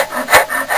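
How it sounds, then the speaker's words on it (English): A battered 30-to-40-year-old rasp files the wooden scale of a bush knife in three short, close, scratchy strokes, the middle one loudest. "With my beat up 30-40-year-old rasp."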